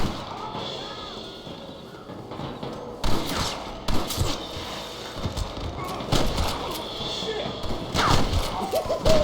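Scattered gunfire during a Red Dead Redemption firefight, irregular cracks and bursts of shots at mid distance over a busy noisy background, several sharp reports from about three seconds onward.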